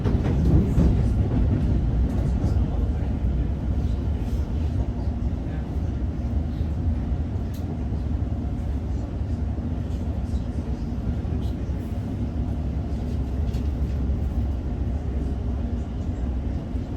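London Overground Weaver line train running between stops toward London Fields, a continuous low rumble and rattle of wheels on track heard from inside the carriage, steady and loud throughout, without talk.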